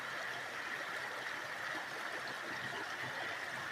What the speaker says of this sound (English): Boy, this creek is beautiful.